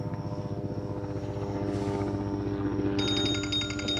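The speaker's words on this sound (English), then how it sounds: "now here comes a friggin' helicopter" Steady low mechanical drone with pulsing rotor-like chop, like a helicopter passing overhead, joined near the end by a high electronic ringing tone.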